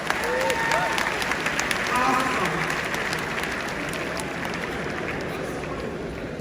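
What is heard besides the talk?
audience applause for speaker Julius Malema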